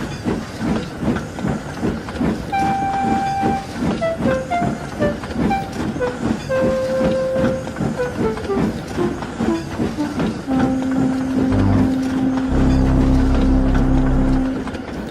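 A train rumbles along with rhythmic clanking and hissing steam, a whistle-like tone sliding in pitch, then a long steady hoot near the end.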